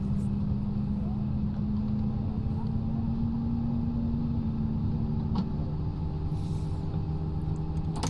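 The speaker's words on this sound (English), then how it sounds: "looks like a good start on engine number 2" Airbus A320neo engine number 2 starting, heard from inside the cabin as a steady, loud low drone with a slowly rising tonal whine running underneath for several seconds.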